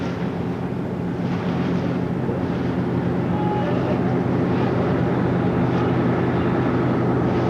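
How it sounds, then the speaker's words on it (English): A steady, loud low rumble of boat engines runs throughout, broadband and constant with no pauses. "just listen to those powerful engines"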